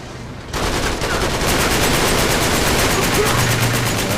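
Sustained automatic gunfire spraying in the video game Uncharted 3, loud rapid bursts starting abruptly after a brief quiet moment and continuing without pause.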